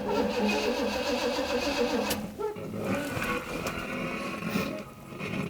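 A 1970 Pontiac Catalina, an old barn-find car, cranks and catches, its engine rumbling steadily and loud up close with a brief surge partway through.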